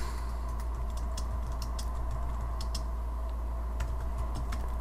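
Soft, irregular keyboard clicks tapping away at a moderate pace over a constant low hum, fairly quiet and close.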